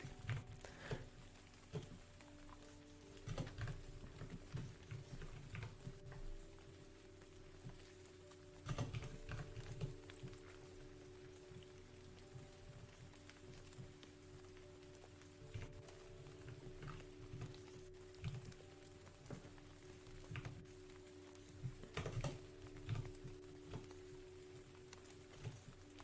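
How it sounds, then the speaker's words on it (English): Computer keyboard typed at a desk during a garden-path game design stream, faint scattered clicks and short bursts of keystrokes over a steady low hum, no voice. "most of it is just my keyboard noises"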